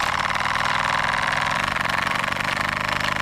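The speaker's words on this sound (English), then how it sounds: "So let's go ahead and open up the AJ Reeves engine." An AJ Reeves model steam engine runs on steam from a Stuart 500 boiler, giving a loud, close, rapid and steady rhythmic chuffing with a mechanical whir that continues evenly throughout.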